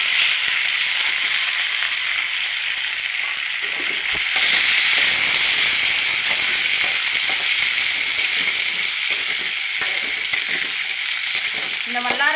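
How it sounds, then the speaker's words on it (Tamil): Onion and garlic frying in a pan for a vallarai greens chutney: a loud, continuous close sizzle with crackling spatters that build toward the end. "இப்போ வந்து வெங்காயம் பூண்டு ஆட் பண்ணிக்கலாம்"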